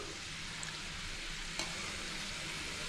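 Masala-coated peanuts fry in a pan, giving a dense, even sizzle held at a constant level throughout, with a single brief clink partway through as they are turned.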